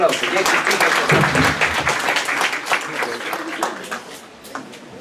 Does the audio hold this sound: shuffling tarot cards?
no